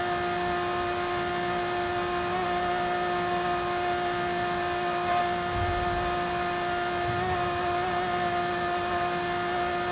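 A Lotus Emira's Toyota-sourced V6 drones in Forza Horizon 5, a steady, sustained tonal hum with strong harmonics holding constant throughout without revving changes.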